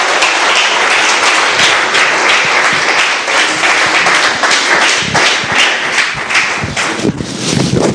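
A church congregation applauds together, a loud, dense and sustained wash of clapping that carries on without a break.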